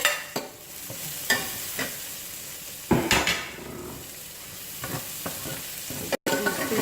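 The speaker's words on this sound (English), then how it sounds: "Now I'm going to add the minced ginger so that can permeate this also." Minced ginger goes into a hot pan of spicy bourbon chicken, hissing and sizzling as it is stirred, with intermittent scrapes and clinks of a utensil against the pan at close range.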